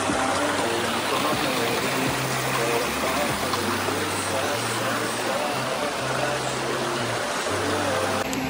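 River water in Batangas rushes and gurgles in a continuous, dense wash, loud and close throughout, with a low rhythmic hum underneath and no clear talking.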